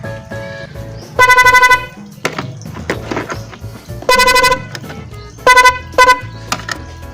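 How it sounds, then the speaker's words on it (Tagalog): A single car horn with no relay honks three times, a long blast, another long blast and a short one, loud and close, with clattering and handling noises between the honks. "Paparinig ko lang sa inyo yung busina ko dati nung wala pang horn relay"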